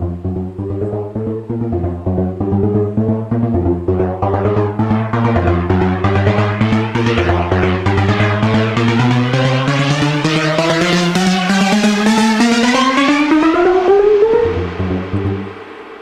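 An FL Studio synth lead for a build-up plays a steady pulsing pattern whose pitch glides upward and grows brighter over about fourteen seconds, then drops back abruptly at the end.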